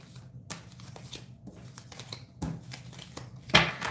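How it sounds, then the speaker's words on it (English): Tarot cards are gathered and shuffled back into a deck, with a few soft paper slaps and rustling flicks spaced irregularly, close and fairly quiet. "I'm about to put all these cards back"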